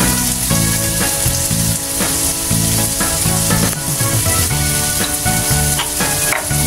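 Tomatoes and eggs fry in a pan with a loud, continuous sizzle, close up, while a utensil stirs and scrapes intermittently through the steady crackle.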